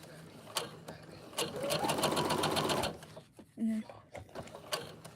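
A sewing machine back stitches fabric in a short, fast mechanical run lasting about a second and a half, followed by a brief whirr of the thread cutter, with a few words spoken at a low level.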